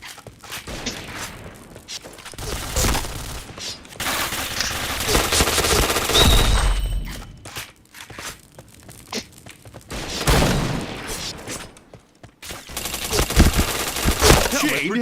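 A video game shooter erupts in bursts of loud automatic gunfire, rapid rattling volleys separated by short lulls, with faint in-game announcer calls heard briefly.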